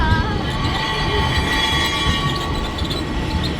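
A train running on rails up a steep incline, with steady continuous rumble and layered high-pitched wheel squeal throughout, loud and close.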